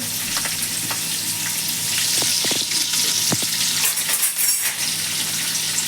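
Steady loud sizzling of spices and coriander in hot oil for tempering, with occasional clinks and small pops throughout.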